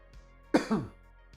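A single short cough, close and fairly quiet, in an otherwise quiet room.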